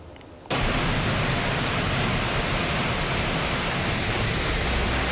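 Heavy rain lashes down with strong wind in Klaten, Central Java, a dense, steady roar of broadband noise that surges in abruptly after a brief quieter moment and then holds loud and unbroken, with no voices.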